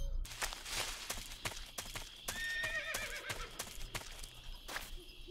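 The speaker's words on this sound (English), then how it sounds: "I hear a horse." A horse neighs in the video game Metal Gear Solid 3 Snake Eater HD, giving a clear, high whinny that rises and trembles, mid-distance over a busy background of steps and clatter.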